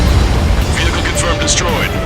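Missile explosion destroying a ground vehicle in the jet combat game Ace Combat 7, a loud dense rumbling blast filling the short moment with radio chatter over it.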